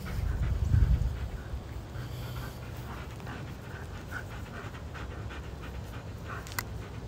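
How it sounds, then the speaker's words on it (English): A dog outside pants in a quick, steady rhythm close by, with a brief louder rustle at the start and faint background noise throughout. "The dog's out there."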